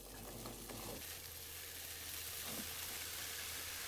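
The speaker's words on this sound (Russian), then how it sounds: "На небольшом нагреве обжариваю яблоки, постоянно помешивая." Apples frying gently in a pan over low heat with constant stirring, giving a soft, steady sizzle with faint scraping, quiet and unbroken throughout.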